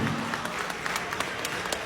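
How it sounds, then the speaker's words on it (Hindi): An audience at a mushaira poetry gathering in Doha, Qatar claps steadily and fairly loudly, with dense overlapping hand claps and no voices on top. "तालियां लखनऊ तक जानी चाहिए।"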